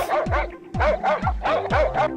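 A cartoon dog in an animated Hindi moral story barks and yips in four quick, loud bursts with short gaps between them, followed by a whimpering note.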